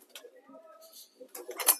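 Pet pigeons give a few soft, brief coos nearby, quiet and intermittent, mixed with people talking and small clinks.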